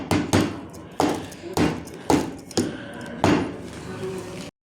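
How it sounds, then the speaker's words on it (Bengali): A bowl of chocolate cake batter is tapped on a hard surface. About seven dull, close knocks come in a loose, steady rhythm, each with a short ring-out. "এবার এটা আমি একটু ট্যাপ করে দেবো।"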